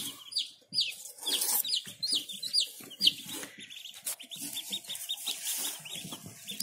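Shrill, high-pitched peeping from several newly hatched chicks repeats in quick bursts, with low clucking and scratching beneath, close by.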